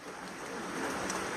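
Steady rain on a mountain on a rainy Sunday, a soft even hiss of falling drops that swells slightly toward the end, with no voices.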